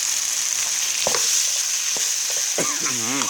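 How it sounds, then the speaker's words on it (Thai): Pork stir-fried with red curry paste in a pan for a northern Thai wild banana blossom curry, a steady close sizzle with occasional scrapes of the spatula stirring through. "ใส่พริกแกงไปผัดแล้วก็เอาหมู เอาหมูไปลวนไปครับ"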